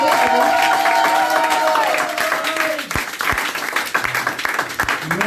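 Congregation at a church service applauding and cheering the Lord, a dense wash of clapping with scattered shouts, loud and close, fading a little toward the end.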